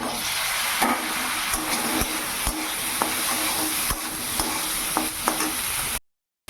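Potatoes sautéing in a spiced curry in a pan, a continuous close sizzle with sharp spatula taps and scrapes scattered throughout, then the sound cuts off abruptly near the end.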